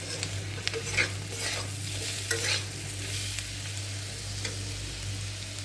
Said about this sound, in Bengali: একটু হলুদ দিয়ে একটু হালকা ভেজে নিয়ে মশলাটা দিয়ে দেবো।